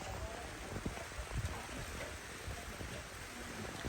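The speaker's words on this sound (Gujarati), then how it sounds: "પાટણમાં ધોધમાર વરસાદ વાવાઝોડા સાથે" Heavy downpour during a storm in Patan, Gujarat, a dense steady hiss of rain beating on surfaces with scattered close drops and spatters, loud and continuous with no voices.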